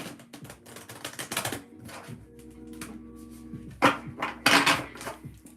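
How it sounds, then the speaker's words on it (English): Tarot cards are shuffled by hand in quick, crisp riffles and taps, close to the listener, with irregular bursts of shuffling separated by brief pauses. "But we're gonna shuffle again for Libra."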